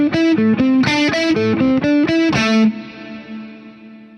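A slowed-down electric guitar lick with distortion and effects plays a quick run of picked notes, close and clear, before a final note rings out and decays; faint regular clicks may sit beneath the notes.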